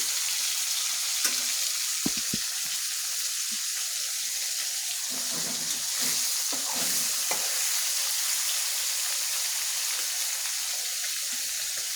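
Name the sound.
fish frying crisp in a pan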